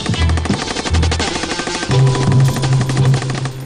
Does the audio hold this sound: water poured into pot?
no